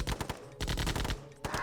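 Rapid gunfire from units in the real-time strategy game Command & Conquer Remastered, Tiberian Dawn Covert Operations, heard as dense rattling bursts broken by brief gaps, loud and close.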